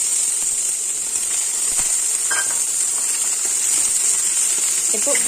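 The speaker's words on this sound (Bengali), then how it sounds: "হালকা হালকা ফ্রাই করে নেবো এগুলো" Light sizzle of cut vegetables frying gently in a pan for a toddler's pasta, with a steady hiss and occasional faint clinks throughout.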